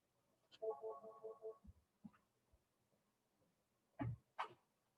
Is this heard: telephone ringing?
yes